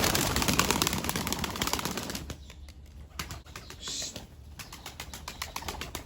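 A wild bird calls among rustling and fluttering sounds close by in a pigeon loft, with a brief burst of wing flapping partway through.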